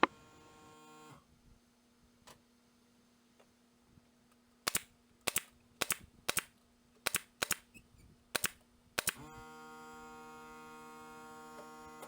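Nails are driven into a wooden shoe rack divider, a run of sharp, close hammer-like impacts in uneven quick succession, set between stretches of steady electrical hum.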